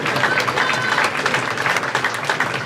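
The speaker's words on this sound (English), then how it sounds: "So give him a round of applause." A crowd claps steadily at close range at an awards ceremony, a dense patter of applause sustained without a break.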